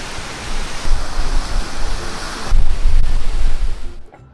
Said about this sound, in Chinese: 这个瀑布真挺好看的